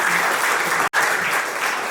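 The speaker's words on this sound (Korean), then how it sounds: "다시 한번 박수 부탁드리겠습니다" Loud, dense audience applause at a Korean event for small business owners, a continuous roar of clapping that cuts out abruptly for an instant before resuming at full strength.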